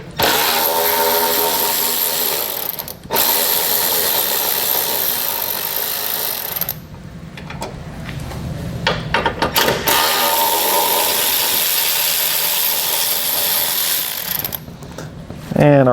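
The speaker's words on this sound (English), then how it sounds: "We're going to take out the bolt using a 10mm socket." Ratchet with a 10mm socket loosening bolts on a 2016 Chevrolet Equinox during a base plate install, heard as close, repeated rapid clicking bursts with brief pauses between runs.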